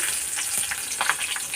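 Green chillies fry in a hot tempering with a continuous close sizzle and a few light crackles and stirring scrapes toward the end, no voices.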